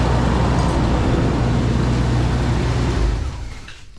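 Engine of an old barn-find Chevrolet Camaro running loudly at idle with a dense, steady rumble that fades as the car is shut off in the final second.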